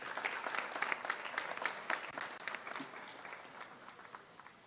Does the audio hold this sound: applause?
yes